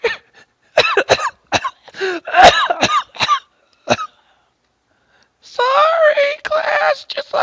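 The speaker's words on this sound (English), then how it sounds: "sometimes I cough uncontrollably." A run of sharp, harsh coughs in quick bursts, loud and close, then a rougher throat-clearing stretch near the end.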